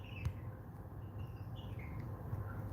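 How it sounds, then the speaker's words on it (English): A bird chirps inside a vent, faint high tweets scattered over a low indoor hum, thin and muffled as if from within ductwork. "I think there's a bird in my vent. It's so loud."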